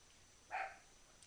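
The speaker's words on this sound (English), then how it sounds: "there's the dog barking" A single short dog bark, faint and distant, in an otherwise quiet space.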